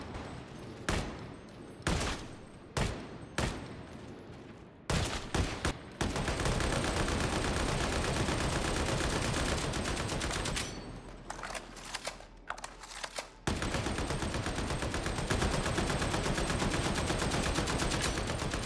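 Braced autogun Agripinaa Mark 8 firing in the video game Darktide: a few separate single or short-burst shots, then long sustained automatic bursts roaring loud and close, one brief pause, then another extended burst.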